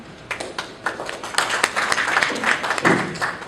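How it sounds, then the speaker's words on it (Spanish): An audience at a formal justice-system event breaks into applause, scattered claps building into a steady round of clapping at moderate distance, with no voices over it. "Un aplauso para él."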